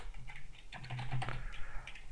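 Typing on a computer keyboard while coding a Bootstrap 4 Jumbotron with contextual colours: a steady run of quick, close, light key clicks with uneven rhythm, heard alone for about two seconds.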